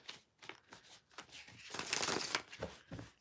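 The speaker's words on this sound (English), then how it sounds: "let me get another good shuffle" Old, worn playing cards being riffle-shuffled at close range, with a run of crisp flutters that swell into one long dense riffle near the middle before trailing off into softer taps.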